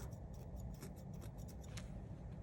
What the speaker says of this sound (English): I'm going to take my little scissors and I'm just trying to trim out some of that black